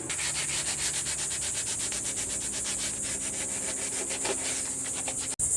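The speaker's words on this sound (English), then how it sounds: "So now I'm just going to go and rough up the foam a little bit." Foam of a broken surfboard being roughed up by hand sanding, a steady rhythmic back-and-forth scraping that runs loud and close for several seconds before stopping abruptly near the end, with no talk.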